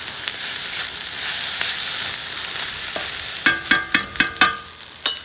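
Yamasa soy sauce meets vegan fried rice in a hot pan, a soft steady sizzle followed by a quick series of sharp metallic clinks as a utensil taps the pan, close and without talking.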